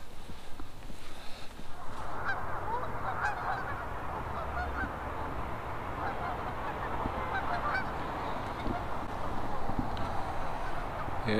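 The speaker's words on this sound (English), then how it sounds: "I count 285 geese in just this little flock, this little clan" A flock of about 285 geese honking outdoors during a winter bird count near Lethbridge, a dense overlapping chorus of honks, moderately distant and continuous throughout.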